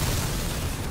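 A weapon shot in the vehicle combat game Crossout, a dense low booming blast that fills the whole second at steady loudness, with no speech over it.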